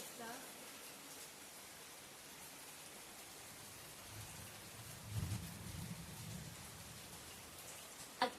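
Sudden light summer rain in a Konkan village makes a soft, steady, faint patter throughout, with a brief low murmur of a voice partway through.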